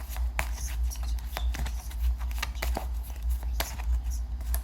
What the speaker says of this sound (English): I just love to shuffle, I guess.